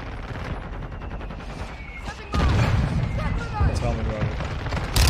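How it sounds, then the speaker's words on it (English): Mortar strike in the video game Modern Warfare 2: after a stretch of scattered gunfire, a heavy blast hits near the middle, followed by continued booms and rattling fire, with voices talking over the combat. "Mortar strike on the way"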